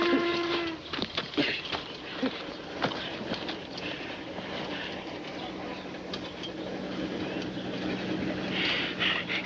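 A steam-era mail train in a 1940 Western, with a brief whistle at the start followed by steady rolling rail clatter and scattered clanks, close and fairly loud throughout.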